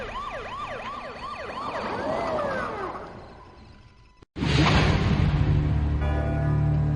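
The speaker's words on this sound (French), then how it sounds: "L'ambulance arrive." An ambulance siren wails nearby in a rising and falling sweep that fades after a few seconds, then cuts abruptly to a loud, dense burst of noise and rumble.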